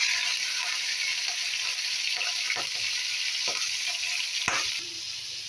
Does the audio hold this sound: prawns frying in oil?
yes